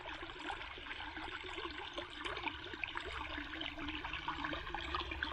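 Water flows along a drainage ditch on flooded property with an overflowing pond, a faint, steady trickling rush that continues without a break.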